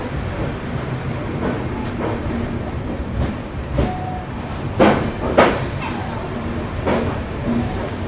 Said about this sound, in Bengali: ট্রেন ছেড়ে দিল কামাখ্যা জাংশন থেকে একদম রাইট টাইমে।